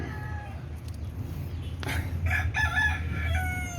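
A young gamecock stag rooster crows once near the mic, a harmonic cock-a-doodle-doo rising over faint background hum and rustle.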